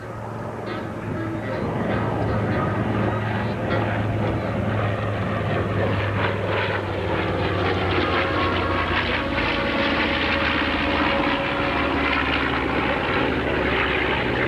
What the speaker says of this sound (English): a picture pass for you, the B-25 Mitchell and the Corsair